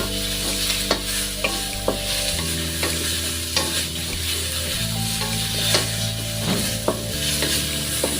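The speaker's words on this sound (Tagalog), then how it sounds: "Gigisa-gisa lang natin siya." Aromatics sautéed in a pan for a tuna dish with cayenne and pechay, steady stirring scrapes and sizzling frying throughout, with a persistent low hum and tonal bands underneath, close and fairly loud.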